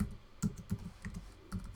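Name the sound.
computer keyboard typing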